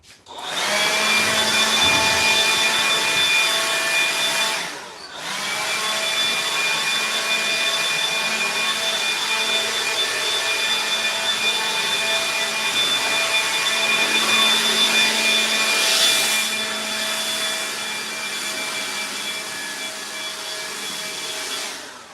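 A vacuum cleaner sucks up sawdust inside a vintage Scotty camper under rebuild. It drones loud and steady for about twenty seconds, with a brief dip early on and a slightly lower pitch toward the end.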